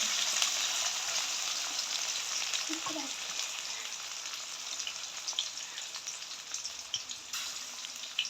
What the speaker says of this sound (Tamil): எண்ணெய் வந்து நல்லா சூடாகிட்டுது. வந்து இப்படி சத்தம் ஆகிட்டு.